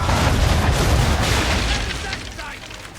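Ship cannons fire a broadside in Assassin's Creed 3, a dense rolling wall of loud booming blasts that slowly fades over the seconds.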